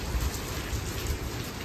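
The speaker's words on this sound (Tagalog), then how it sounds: "Lakas ng ulan" Heavy rain pouring down steadily outside a store parking area, a dense, even wash of sound with no voices.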